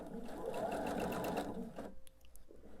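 A sewing machine stitches a quilt block in a short, steady burst of rapid mechanical clatter, then stops abruptly, leaving faint handling sounds.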